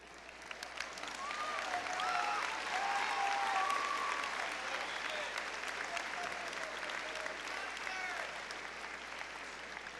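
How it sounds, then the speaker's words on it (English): Steady, full applause from a high school audience at an annual honors awards assembly, celebrating students, with a few whistles riding on top; sustained and dense for the whole stretch. "Another round of applause for these students"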